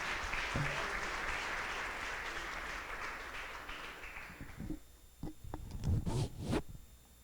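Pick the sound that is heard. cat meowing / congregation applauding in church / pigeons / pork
congregation applauding in church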